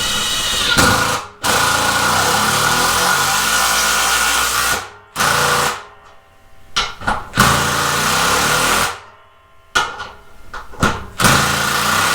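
A Makita sub-compact brushless cordless driver sinks a 3-inch lag screw in loud, close bursts of whirring motor and impact hammering, with short pauses and stop-start pulses between runs.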